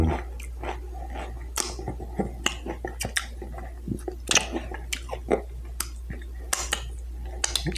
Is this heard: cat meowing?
no